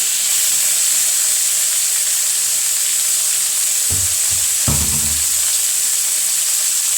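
Tomato, okra and onion sautéing in a pan for sambar, heard as a loud, steady hissing sizzle throughout with a couple of short stirring knocks partway through.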